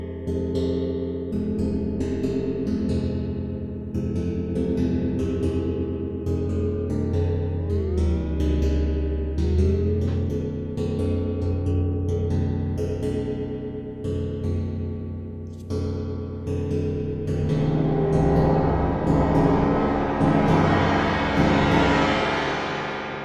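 A physical-modelling synth imitating two connected plates struck with a mallet, producing dense, ringing metallic tones with bending, wobbling pitches and growing non-linear effects, sustained loudly throughout with no speech.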